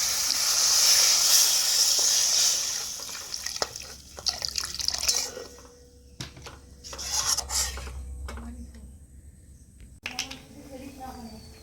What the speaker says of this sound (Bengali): মশলা কষানো হয়ে গেছে এবার কড়াইতে জল দিয়ে দেবো